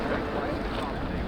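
Wind blows hard outdoors on an early, dark, wet morning, a steady broad roar and buffeting against the microphone throughout, loud and close.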